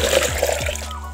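Water poured into a container of mango pieces and brown sugar to make eco enzyme, a close splashing, gurgling stream that tapers off at the end.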